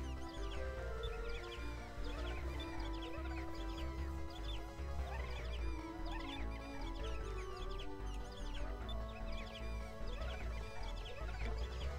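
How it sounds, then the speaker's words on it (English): Bird clucking in Skies of Arcadia Legends, a steady run of chicken-like clucks over a busy game music bed, continuous and fairly loud with no talk. "It's that same bird that we're feeding stuff to."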